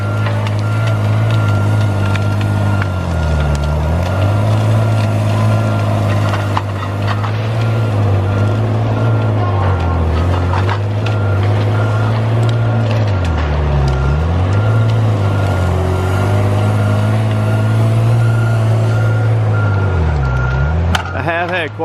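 A Tigercat 635D forestry machine's backup beeper sounds as a repeating tone over the loud, steady diesel drone, with the engine dipping and recovering at regular intervals while someone talks nearby.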